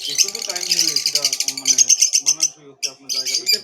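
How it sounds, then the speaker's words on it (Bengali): Lovebirds at an outdoor bird market chirp in rapid, shrill bursts close by, a dense twittering with a brief pause near the end. "এই যে দেখতে পাচ্ছেন এই দাদার কাছে পাখি নিতে সুন্দর লাভবার্ড আছে"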